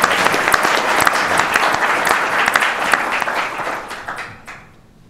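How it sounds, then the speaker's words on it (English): Loud, dense audience applause at an event celebrating the Blue Waters supercomputer, many hands clapping steadily and close, then quickly tapering off to silence at the end. "Let's have a round of applause for Caterpillar."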